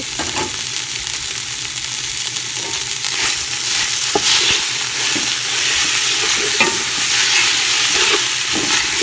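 Minced pork stir-fried in a pan with garlic for a Lao-style bamboo shoot dish: a steady, loud sizzle with scraping and stirring strokes throughout, no voices.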